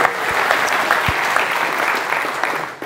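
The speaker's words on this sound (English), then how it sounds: "let's have a clap for Larry" A conference audience applauds together, a dense, steady wash of clapping that holds loud for a few seconds before tapering slightly at the end.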